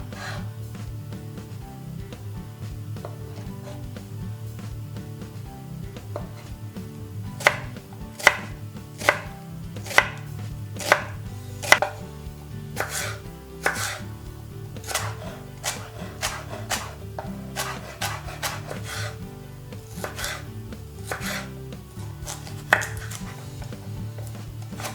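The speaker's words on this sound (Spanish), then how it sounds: "Empezamos por cortar el tempe en rodajas de 1 centímetro más o menos de grosor." A knife chops a block of tempeh into slices about one centimetre thick on a board, a run of crisp, close, fairly regular cuts that quicken and cluster in the second half, alone without talk.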